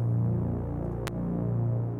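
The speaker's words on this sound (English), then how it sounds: "This track has got a nice, thick, quite basic sort of detuned super saw running all the way through" A thick detuned supersaw Reese bass, built from two Juno 60 saw waves an octave apart, drones low and steady with a slow throbbing beat and one brief click midway.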